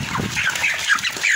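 A Fayoumi rooster and hens give close, agitated clucks and squawks in a quick rapid flurry, with possible wing flapping and no speech.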